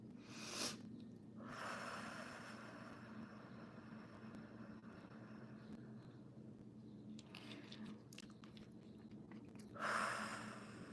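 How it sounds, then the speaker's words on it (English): Slow, deep breaths drawn in and pushed out during a guided heart chakra meditation, soft, close and airy, with long quiet gaps between breaths over a faint steady background hum. "go ahead and take 2 deep inhales and exhales at the heart chakra"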